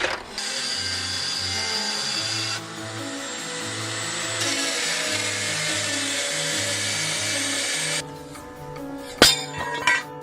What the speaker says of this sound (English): I'm going to use this guy, the die grinder, set up in the clamp vertically